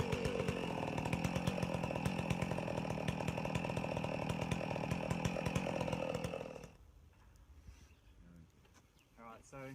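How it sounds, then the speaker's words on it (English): A chainsaw roars close and loud while felling a large tree, with steady engine whine and cutting buzz for about six and a half seconds, then cuts off abruptly, leaving faint rustling and a distant voice. "cutting down large trees with a chainsaw"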